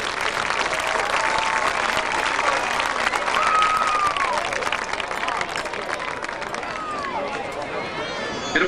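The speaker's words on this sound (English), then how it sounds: "Please give them a round of applause for everything they have done for the London band and athletic program." A stadium crowd applauds and cheers the parents at a high school football game on parent night, sustained clapping filling the stands with a faint announcer-style tone drifting over it.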